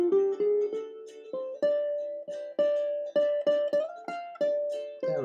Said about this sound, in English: so that would sound something like this if you wanted to give it a go